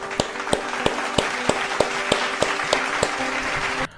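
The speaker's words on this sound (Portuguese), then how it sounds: "Salve de palmas" Applause on a podcast debate: a continuous wash of clapping punctuated by regular, sharp, evenly spaced claps, with a faint steady tone beneath, ending abruptly just before the close.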